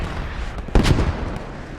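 Artillery and mortar fire in the World War II game Post Scriptum, a single heavy booming impact mid-clip over a rumbling background, no speech.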